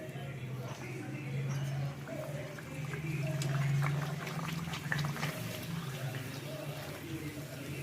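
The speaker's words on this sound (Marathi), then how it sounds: "छानपैकी खरपूस अशा आपण पुऱ्या तळून घ्यायच्या आहेत" Puris fry in hot oil in a heated kadhai, giving a soft steady sizzle and bubbling that swells and fades, with someone speaking over it throughout.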